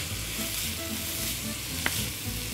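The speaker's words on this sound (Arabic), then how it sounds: "انا دلوقتي هنزل بالبصل" Onions go into a hot pan and sizzle steadily with a dense, close frying hiss, broken by a brief scrape of stirring near the end.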